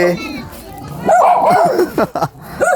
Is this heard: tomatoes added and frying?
no